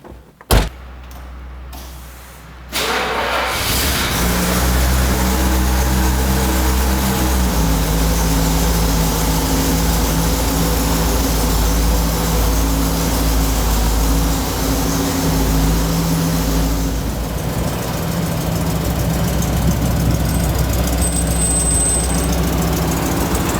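A 1972 Mercedes-Benz 350SL: a door thud and a few clicks, then the engine fires and settles into a loud, steady drone that continues unbroken while the car is driven, with faint shifts in pitch.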